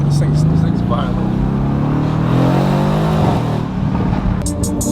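Mercedes-AMG engine and exhaust revving close by, a loud, throaty roar rising and falling in pitch through several pulls, with people talking over it.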